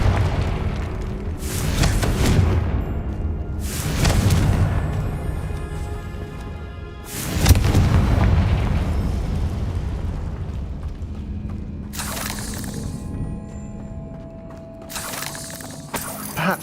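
Confringo blasting spell in Hogwarts Legacy: several booming explosions with shattering debris, spaced a few seconds apart, loud and close, each trailing into a rumbling decay with no talking.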